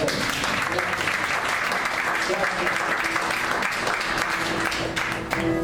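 Sustained applause fills a church congregation, a dense, even wash of many hands clapping steadily for the whole stretch without pause.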